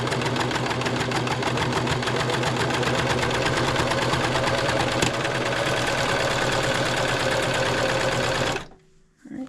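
An older, loud serger sewing machine runs steadily while trimming and finishing the edge of a Dollar Tree dish mat, a fast rhythmic mechanical whirring and rattling, close by, that stops abruptly near the end.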